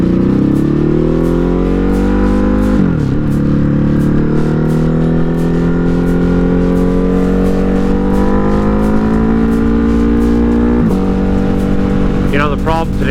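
A rider on a Ducati Hypermotard 950 RVE cruises with a loud, steady engine drone close by, briefly shifting pitch twice as the throttle changes; no distinct separate motorcycle pass stands out from the continuous engine sound.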